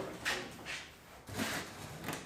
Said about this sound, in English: I have to pull off the door panel